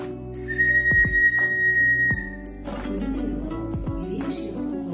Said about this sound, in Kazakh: ал мынау балалар ысқырғыш. Ысқырғыш әдетте саздан жасалады екен, міне.